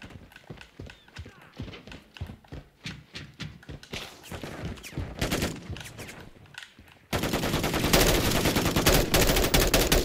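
Rapid bursts of machine gun fire in a Call of Duty online match, loud and repeated in quick rhythmic volleys, with a louder sustained stretch of gunfire and game noise near the end; a voice talks over it at times.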